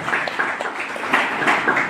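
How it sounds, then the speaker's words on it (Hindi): Audience applause, a short burst of scattered hand clapping from a modest crowd, moderately loud and even for about two seconds with no voices over it. "चलिए सर के लिए एकदम ताली बनती है"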